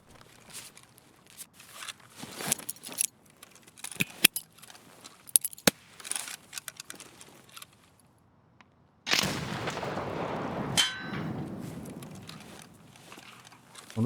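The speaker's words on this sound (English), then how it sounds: "Sorry, that's my quest grenade." A grenade explodes in Escape from Tarkov, a sudden loud blast with a rumbling decay, following scattered clicks and footsteps-like gear handling.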